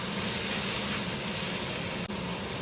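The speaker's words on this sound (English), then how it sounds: "Add cabbage and carrots. Then sauté it for a little bit." Cabbage and carrots being sautéed in a pan for chicken chowmein give a steady, close sizzling hiss that barely wavers, broken only by a brief dip near the end.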